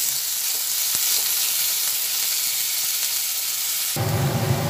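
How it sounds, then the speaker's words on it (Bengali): Garlic and onions sizzle steadily in hot oil in a pan, a dense continuous hiss with an occasional stir and a shift in tone near the end, without any speech. "এরপরে ভালোভাবে এটা ভেজে নিচ্ছি"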